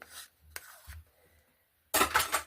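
Acrylic paint for a pour being mixed in a container: soft, close scraping and rubbing strokes in short bursts with quiet gaps, ending in a louder scrape.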